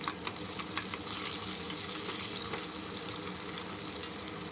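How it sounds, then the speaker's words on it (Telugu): Steady sizzling of onions and curry leaves frying in hot oil, a dense crackling hiss throughout with faint clinks and stirring, no talking. "కరివేపాకు ఆనియన్స్ ఇలా వేసేసుకుని బాగా ఫ్రై చేసుకుందాము"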